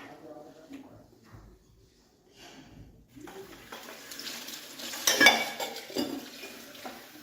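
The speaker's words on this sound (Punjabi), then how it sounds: "ਕਿਉਂ ਤੂੰ ਭਾਂਡੇ ਮਾਂਜਣ ਲੱਗੀ" Running tap water splashing over dishes in a sink, with plates and utensils clattering; it starts faint and sparse, then turns steadier and louder in the second half, peaking in a brief clatter, with faint voices in the background.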